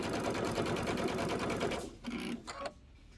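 Fabric runs through a sewing machine while a table topper is finished, a loud, close, rapid stitching chatter that holds steady for nearly two seconds, then breaks into a couple of short bursts before stopping.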